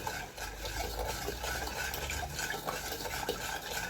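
Steady stirring of sugar syrup in a pot for Turkish baklava, a continuous scraping swish with faint clinks of a utensil against the pan, close and moderately loud, no talking.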